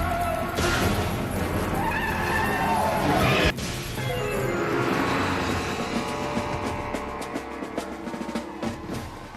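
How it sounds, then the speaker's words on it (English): Car chase sound effects from the low-budget creature movie Sharktopus vs. Whalewolf: loud, dense engine roar and screeching skids mixed with music, a sharp crash around the middle, then continued roaring that slowly thins out. "go on a rampant car chase with epic music and epic sound effects"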